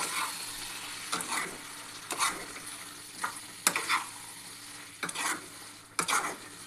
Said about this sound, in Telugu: ఇందులో మనం మటన్ యాడ్ చేసుకుందాం. యాడ్ చేసుకొని దీన్ని బాగా కలిపేసుకుందాం